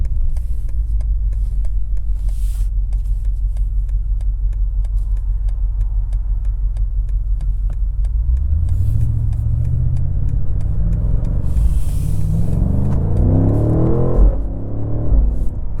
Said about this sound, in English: this V8 just has so much character, the way it sounds